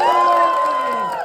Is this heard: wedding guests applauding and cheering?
yes